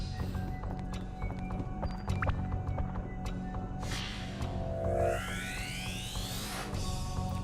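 A horse rider enemy in the video game Dark Cloud gallops with rhythmic clip-clopping hooves and whinnies, mixed over game music and synthetic sound effects.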